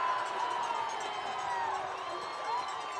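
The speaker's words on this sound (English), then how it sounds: "let's see if the Anoka crowd can get loud on 3rd down and 12" A high school football crowd at Anoka cheers and shouts after a quarterback sack, a steady roar of many voices heard from some distance throughout.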